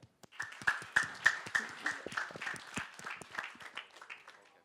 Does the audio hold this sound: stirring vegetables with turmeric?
no